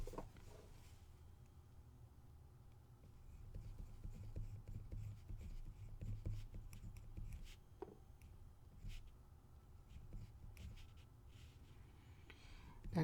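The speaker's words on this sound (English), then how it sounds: "Let me write that." Pen writing out a calculus problem on a tangent line equation, faint scratchy strokes in irregular bursts over a low room hum, close and quiet.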